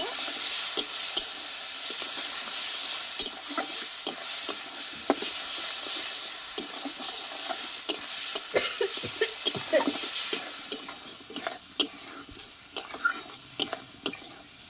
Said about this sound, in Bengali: এখানে দেবো একটু আমি ধনে গুঁড়ো দিয়ে মশলাটা ভালোভাবে কষিয়ে নেব